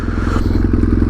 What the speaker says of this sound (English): if you listen to this engine